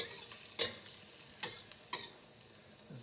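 Chopped garlic frying in hot oil, a quiet sizzle with a few sharp clicks of a utensil against the pan spaced across a few seconds, no talking.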